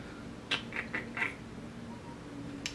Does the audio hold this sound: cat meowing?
yes